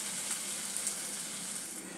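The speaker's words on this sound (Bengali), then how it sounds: "এখন এই ব্যাটার থেকে আমি একটু একটু করে বড়াটা ভেজে নেব" Poppy seed fritters made from batter fry in hot oil, a close, even hissing sizzle that holds steady for a brief moment with no voices.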